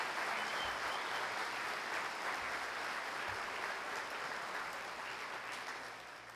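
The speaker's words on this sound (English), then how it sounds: "Give them a round of applause." Sustained audience applause fills a room at an athletics hall of honor awards night, a dense steady clapping that holds throughout and tapers slightly toward the end.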